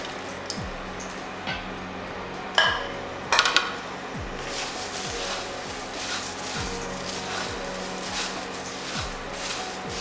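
Puffed rice and makhana stirred in a pan with turmeric, a steady scraping and rustling of the spoon against metal with a few sharper clinks and knocks, close and continuous, with no talk.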